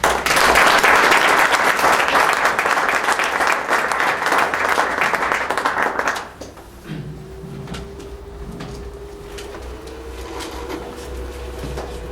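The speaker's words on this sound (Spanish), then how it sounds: "para quienes pido un aplauso" Audience applause for two doctors introduced at a music-and-mathematics lecture rings out strongly for about six seconds, then stops abruptly, leaving quiet room noise and small handling sounds.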